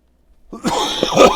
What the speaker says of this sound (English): I apologize for that cough.